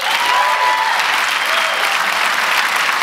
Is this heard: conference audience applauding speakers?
yes